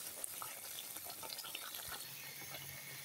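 Masala frying in a pan with small splashes of water added, giving a steady close sizzle and watery bubbling with no talk.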